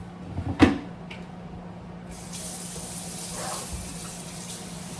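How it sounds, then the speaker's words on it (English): Water pours from a faucet into a pot of chopped apples for apple jelly, a knock followed by a steady, close hiss of running water. "Now I need to add some water."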